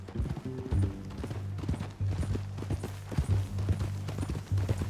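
Horse hooves clip-clop steadily in the video game Red Dead Redemption 2, a continuous close, rhythmic trot over a low, droning background.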